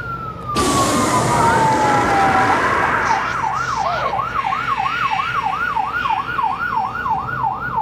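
Emergency siren in the game Until Dawn, starting with a long falling wail that shifts into a fast rising-and-falling yelp, loud and continuous over a rumbling background.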